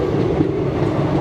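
A passing train on Indian Railways between Bareilly and Delhi, heard from a moving carriage with its door open, gives a loud, steady, close rumble and rattle with no voices.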